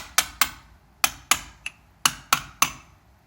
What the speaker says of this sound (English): you're just going to take a chisel, and you're just going to pound those back